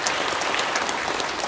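Brief, dense applause from a congregation at a church ordination service, steady and fairly loud throughout with no talking.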